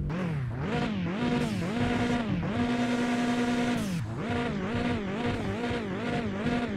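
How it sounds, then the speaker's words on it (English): Car engine in the driving game Mon Bazou, played on a Logitech G27 wheel, running steadily with a loud wavering drone that rises and falls as it revs, heard alone without talk. "let's close the door and let's turn on the car"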